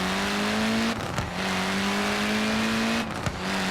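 A Nissan Pulsar Group A rally car in Forza Horizon 4 on a dirt track, its engine droning steadily upward in pitch as it accelerates, cut by two brief gear-shift dips, loud and close.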